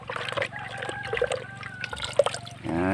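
Paper bullet pellets are soaked in a container of water, making small splashes, trickles and wet dribbling sounds, close and intermittent, with a brief louder swish near the end.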